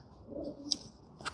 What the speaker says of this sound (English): I've got some pigeons here mating, I think.